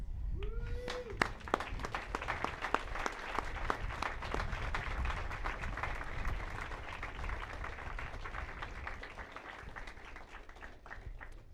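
Graduates applauding their parents and families at a high school commencement: a long, steady burst of crowd clapping with sharp individual claps standing out, gradually thinning toward the end.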